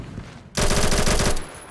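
Video-game AK107 rifle unleashes a short, loud, rapid automatic burst lasting under a second, its tight rhythmic rattle cutting in sharply over quiet background and ending just as suddenly.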